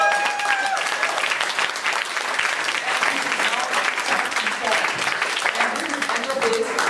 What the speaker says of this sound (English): Give a clap to Angeline.